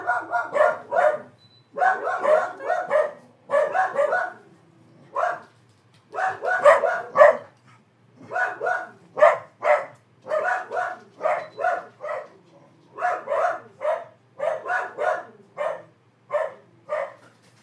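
A dog barks repeatedly in quick clusters of sharp, close yaps and barks with short pauses between them, loud and steady for the whole stretch, without any talk.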